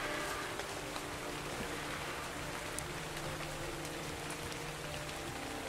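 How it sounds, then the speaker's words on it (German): Steady, soft simulated rainfall in the video game Ark, pattering on a surface inside a dome, a constant even hiss with occasional drips, no voices. "Es ist glaube ich simulierter Regen."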